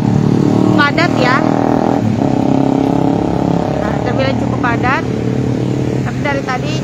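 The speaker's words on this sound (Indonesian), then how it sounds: "cukup lumayan banyak juga mobil-mobil besar yang lewat, dan pengendara motor juga cukup banyak" Busy evening street traffic in Banjarbaru, with motorcycles and large cars passing close by in a steady, loud roar of engines. A voice talks over the traffic.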